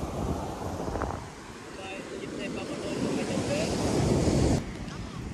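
Waves wash and surge nearby, mixed with gusty wind buffeting the microphone, rising to a louder rush before briefly easing.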